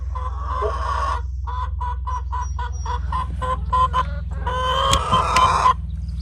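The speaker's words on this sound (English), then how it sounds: "Are you sitting on any eggs, Blue?" Hens cluck in a steady, rhythmic series of short calls nearby, rising into a louder, drawn-out squawk near the end over a constant low hum.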